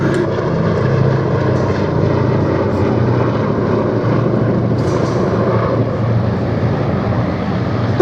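Hispano Buchon propeller aircraft taking off at an air show, a steady, loud, droning piston-engine roar that holds without a break throughout.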